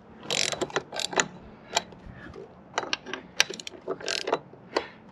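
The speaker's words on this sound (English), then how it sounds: "I'm gonna go ahead and get the trusty socket wrench." A socket wrench ratchets in short bursts of rapid clicking while snugging the cross bar bolts on a roof rack of a 2021-or-later Nissan Rogue, with several close, crisp runs separated by brief pauses.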